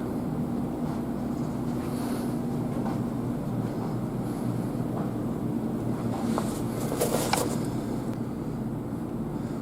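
American Flyer S-gauge toy train running on a museum display layout, a steady continuous rumble and clatter of small wheels on track with brief metallic clicks near the end.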